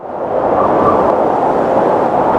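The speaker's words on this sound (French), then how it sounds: "le sifflement du vent." A steady, loud rush of wind blowing continuously, a broad airy roar with no breaks or voices.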